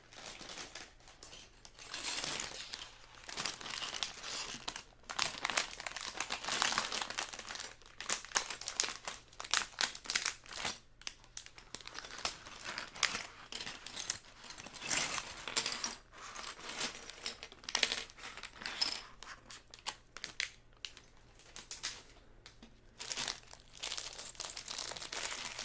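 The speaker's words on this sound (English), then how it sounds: "incoming bag crinkles." Plastic bag from a Lego set crinkled and handled close up, a loud, dense, continuous crackling that swells and eases over about twenty-five seconds, with no voice.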